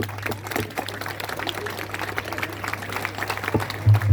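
Applause from an audience at a celebration of the International Day of Persons with Disabilities, a dense, steady patter of many hands heard at moderate distance over a constant low electrical hum.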